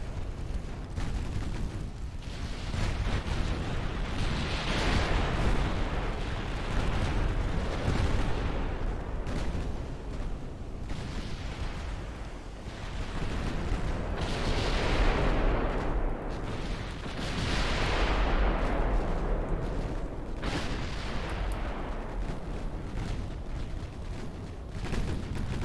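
Heavy naval gunfire from warships in Ultimate Admiral Dreadnoughts, a British 1900 campaign battle, rolls on continuously as a dense wall of booming salvos, with surging swells of loud fire every few seconds and no talk.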